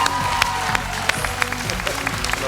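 Audience applause at a televised talent show as a vocal group is welcomed onstage, steady clapping with scattered sharper claps, mixed with crowd noise and a voice over it.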